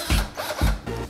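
A power drill revs close by in a house, giving loud, short whirring bursts that repeat roughly twice a second with brief dips between them.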